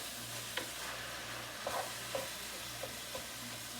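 Noodles going into a hot pot for a creamy weeknight meal, with a steady hiss of sizzling and a few soft scraping stirs and clinks, close and fairly quiet over a low hum.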